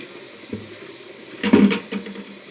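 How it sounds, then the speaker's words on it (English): Water from a Frankford Arsenal wet tumbler is dumped into a sink: a brief close splash and gush of pouring liquid, loud for about a second, with light trickling after. "Dump the water in the sink."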